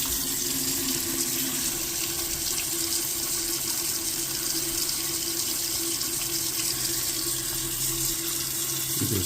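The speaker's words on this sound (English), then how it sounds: "the issue we have is the hot water will leak when you turn it on from the handle" Hot water running steadily from a leaking Pfister Courant bronze widespread faucet into a sink, a continuous close hiss and splash with a faint low hum underneath, no talking.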